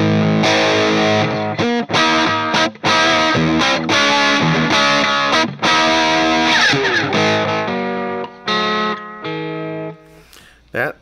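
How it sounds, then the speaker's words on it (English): Distorted electric guitar chords and notes ring out loud, each phrase followed by a single echoing repeat before fading. "let's go ahead and add the echo, which is one repeat here"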